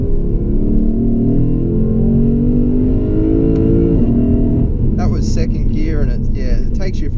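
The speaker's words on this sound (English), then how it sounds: "It takes revs to wind it out to where the power is." A 2016 Lexus GS F engine revving under acceleration, a steady loud rising drone that climbs through the revs, then a gear change with a brief chirping sound, heard from the cabin.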